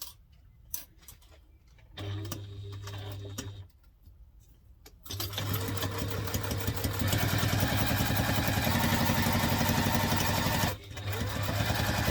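A sewing machine top stitching a laptop briefcase: a few short stops and starts, then a long, steady run of fast mechanical whirring and rapid needle ticking, a brief pause, and more stitching, close and alone.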